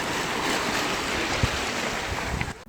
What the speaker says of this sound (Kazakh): Ла-Манш бұғазының Франция жағалауы.